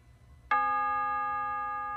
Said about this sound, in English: That should have been the last bell.